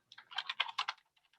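Keys on a computer keyboard tapped in a quick burst of about a dozen clicks, close and clear, ending with a few softer isolated taps; no one talks.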